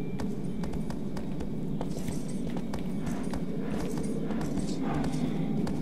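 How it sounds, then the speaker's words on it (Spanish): A horse galloping in the video game Shadow of the Colossus, quick rhythmic hoofbeats over a soft ambient game backdrop. "Nos hemos montado el caballo a la primera."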